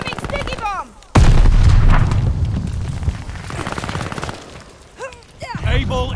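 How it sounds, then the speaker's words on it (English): A sticky bomb detonates with a loud, sudden blast in the shooter Vanguard, followed by a few seconds of rumbling debris and gunfire, while voiced game announcer lines and radio chatter play before and after. "Incoming sticky bomb."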